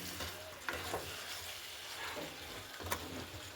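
Chicken masala is stir-fried in a pan with black pepper, a soft continuous sizzle under occasional spatula scrapes and clicks against the pan, fairly quiet and with no talking.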